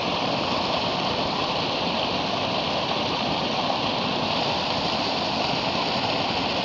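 Mountain spring water gushes steadily at a lakeside spot near Nanaimo, BC, a dense, continuous rushing and gurgling flow that stays loud and even throughout, with no voices.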